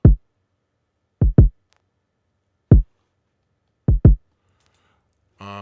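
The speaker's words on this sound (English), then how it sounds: "Next is the kick, and it sounds like this." A deep, punchy kick drum plays a sparse pattern of six hits, some in quick pairs, with short boomy decays and silence between them.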